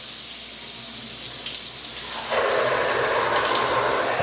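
Bathroom rain shower head switching on, a soft hiss that suddenly swells into a loud, dense spray of falling water partway through and continues steadily.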